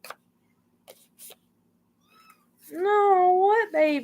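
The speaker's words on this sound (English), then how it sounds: "You can hear them crying and meowing." Cats meow near the microphone, a few faint short cries early on followed by two loud drawn-out meows at the end, with quiet room sounds in between.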